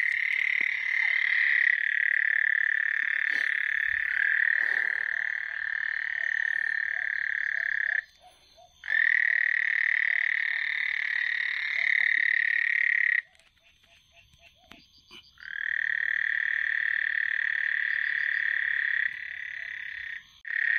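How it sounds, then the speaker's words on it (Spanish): A frog calls in long, loud, buzzing croak trills, three extended bouts separated by short pauses, close and clear over quiet night background. "Es una rana y un auyaque ranero, miren."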